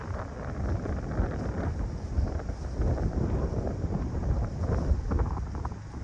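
Wind gusting outdoors around a camp stove set up for cooking with a nonstick skillet, a steady broad rumble buffeting the microphone throughout with slightly stronger gusts, no talking.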